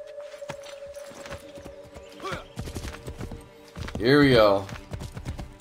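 A horse ridden in Assassin's Creed 3 clip-clops at a quick pace under game music, with a loud whinny near the end and someone talking over it.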